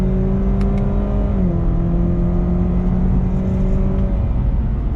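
A 2019 Chevrolet Camaro turbo engine pulls hard on throttle, a loud close-up drone that climbs, dips briefly as if through a shift, then holds a steady rising tone, with no talk over it.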